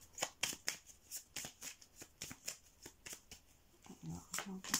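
Playing cards shuffled and drawn during a French-language card reading, a quick run of close, crisp riffling flicks and slaps with a few soft handling rustles near the end.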